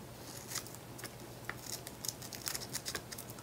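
Paper for a Graphic 45 couture cover project is trimmed with scissors in a string of quick, close snips, uneven in rhythm and clustered toward the end, with no voices.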